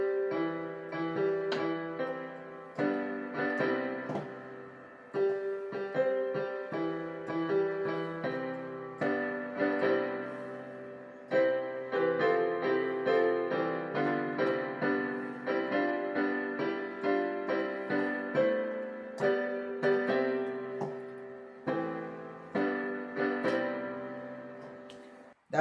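Hymn "God Speed The Right" played on solo piano, clear chords and melody struck in steady phrases with decaying notes, close and moderately loud, no voices.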